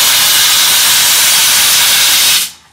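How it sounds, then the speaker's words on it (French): A steam blower jets loudly onto a metal jewelry dog tag during polishing, a harsh continuous hiss close up that cuts off sharply after about two and a half seconds, with no talking. "C'est la soufflette vapeur là."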